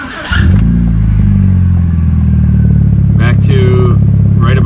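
A 2003 vehicle engine starts and settles into a loud, steady idle close by, with a voice speaking over it near the end.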